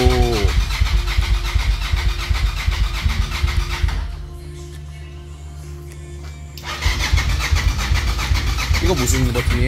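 A Suzuki TL1000S motorcycle engine cranks and catches, a loud uneven mechanical burst that drops to a low steady idle hum before the loud running returns, with people talking over it.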